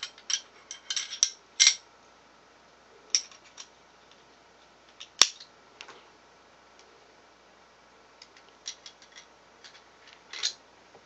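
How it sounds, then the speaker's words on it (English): Metal parts of a Steyr pistol slide and barrel being reassembled by hand, with a series of sharp, light clicks and scrapes scattered irregularly, one crisp snap standing out, all close and fairly quiet. "we're going to reassemble our slide, barrel in, get in there"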